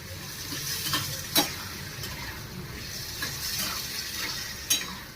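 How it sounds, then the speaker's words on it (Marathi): Green peas sizzle steadily in hot oil in a pan, with a spoon stirring and occasionally scraping or knocking against the metal, close and fairly quiet, with no talk. "तेलात वाटाणा होऊन देते."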